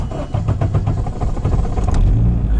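A Nissan Cefiro fitted with a swapped Honda K24 engine cranks and catches, then settles into a loud, close, uneven idle with rough pulsing, heard on its own without voices.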